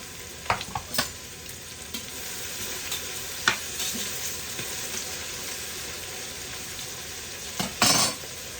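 Onions fry in a pan with a steady, close sizzle, broken by occasional clinks and scrapes as they are stirred.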